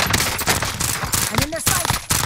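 Rapid automatic gunfire in Call of Duty on Rebirth Island crackles in dense, loud bursts, with overlapping shots at close range and brief electronic tones threaded through the barrage.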